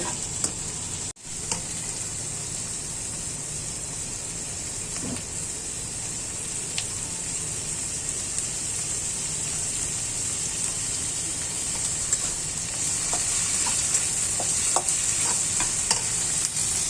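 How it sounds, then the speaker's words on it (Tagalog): Garlic and tomato sautéing in a pan for Filipino chicken adobo, a steady loud frying sizzle with a bright hiss and occasional stirring scrapes running continuously without talk. "So, ayan na nilagay yung garlic and tomato."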